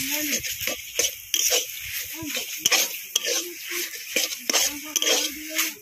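Repeated scraping and stirring of wilted taro leaves in a wok, soft rhythmic strokes with faint sizzling, close by, with a voice talking over it.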